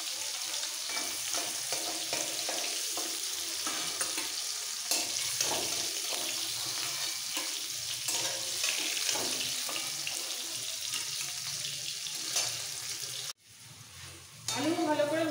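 Potatoes fry in a pan for a Bengali rohu fish curry with winter vegetables, a steady close sizzle running throughout with scraping stirs, then a brief pause and a sharp burst of crackling near the end.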